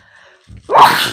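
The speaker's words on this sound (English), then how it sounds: "Hold on, I gotta sneeze" A short intake of breath followed by one sharp, loud sneeze burst close to the microphone.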